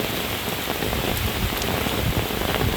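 Heavy afternoon rain in a rural village, driven by strong wind, falls as a dense, continuous hiss and patter close by with no pauses.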